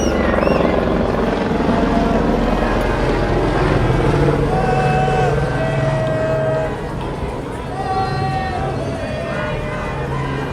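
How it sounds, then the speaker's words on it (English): A helicopter's rotor drone thrums loudly and steadily overhead during a protest in downtown Los Angeles while people talk nearby, with some fainter tonal whines drifting through. "Here comes the helicopter."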